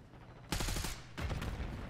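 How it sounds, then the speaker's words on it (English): Sniper rifle gunfire in a video game: two loud, sharp broadband blasts about half a second apart, each trailing off into a rumbling tail, with no talk over them. "That's a sniper."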